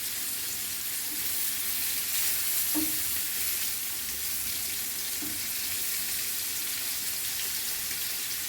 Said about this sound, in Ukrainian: Пережарила всі гречаники.